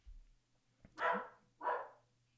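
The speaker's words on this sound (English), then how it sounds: "That's my dog Pancho." A pet dog gives two loud, close barks about half a second apart after a faint thump, in a quiet indoor room.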